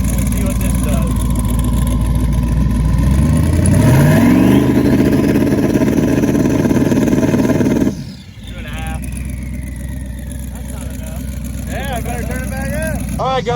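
Drag car engine revving against two-step launch control, a loud held rev that climbs and holds before cutting off abruptly, followed by a lower idle with sharp pops; someone speaks over it.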